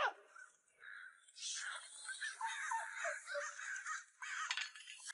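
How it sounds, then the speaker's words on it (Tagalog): A crow caws overhead, a faint, harsh, drawn-out call that repeats over several seconds against a quiet background. "May uwak na dumaan sa itaas."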